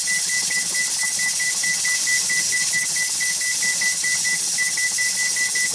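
A kitchen timer being set gives a steady series of short, evenly spaced high beeps, close and clear over faint background hiss.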